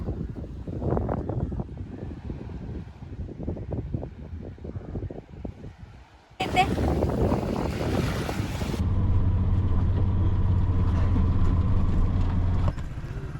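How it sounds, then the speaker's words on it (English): Waves wash onto a beach on Delft Island in Sri Lanka. The surf rumbles under wind buffeting the microphone, growing louder and rougher in the second half. "We stopped by at this beautiful beach."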